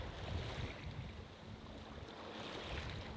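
A sailboat runs under spinnaker in light wind, with a steady wash of water along the hull, soft splashing waves and gusty wind rumble on the microphone, all fairly quiet and with no talking.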